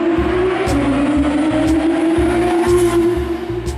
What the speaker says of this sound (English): hearing the engines echoing around the buildings